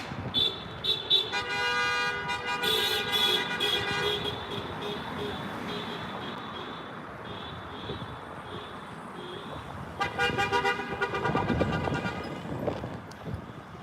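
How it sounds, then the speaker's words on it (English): Car horns honking in New York City street traffic in Manhattan: repeated short toots and longer blasts over a steady roar of passing cars, with a cluster of rapid honks near the end. "that wasn't even the fastest honking I've heard in New York before"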